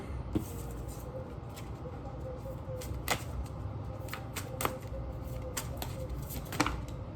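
Advice cards being shuffled by hand, a run of soft riffling and snapping bursts close by against a quiet background, with no talking.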